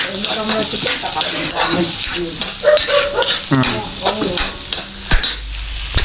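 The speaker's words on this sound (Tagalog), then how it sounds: "Chili, luya, sibuyas, saka bawang. Sabay-sabay kong nilalagay yan guys." Chili, ginger, onion and garlic dropped together into a hot pan, a loud close sizzle and hiss with stirring scrapes continuing steadily throughout.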